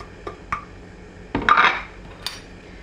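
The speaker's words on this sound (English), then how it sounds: "and mix it really well" Spices being mixed into chicken in a bowl make a few sharp clinks and scrapes of a utensil against the dish, with a louder, longer scrape in the middle, close by and without talk.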